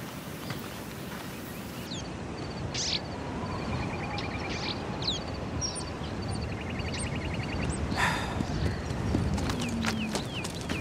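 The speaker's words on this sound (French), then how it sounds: "Va promener ton cheval dans l'obscurité" A horse walks with steady clip-clopping hooves, a continuous rhythmic plodding close by, with a few birds chirping in the background.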